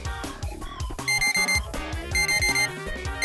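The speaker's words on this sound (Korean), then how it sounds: "어디서 알람 소리가?" An alarm clock rings in the game Trickcal Revive with loud, repeating electronic chime bursts in a quick, insistent rhythm, layered over busy game sounds.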